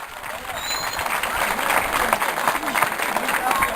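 Applause from a village festival audience greeting a commander coming on stage, a steady dense wash of clapping with overlapping voices and a bit of speech mixed in.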